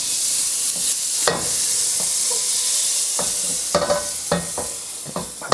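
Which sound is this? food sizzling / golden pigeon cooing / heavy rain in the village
food sizzling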